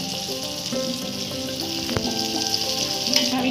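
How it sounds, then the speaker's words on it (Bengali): Butter sizzling in a wok before an egg goes in for fried rice, a continuous close crackling sizzle with a faint hum underneath and one sharp tap partway through. "কড়াইতে আমি বাটার দিয়ে দেব ডিমটা ফ্রাই করার জন্য।"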